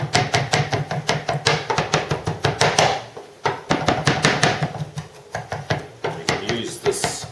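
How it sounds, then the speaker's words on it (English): A knife chops rapidly on a cutting board, quick rhythmic thuds in bursts with a brief pause midway, close and crisp. "You can use this rapid chopping action to slice those up."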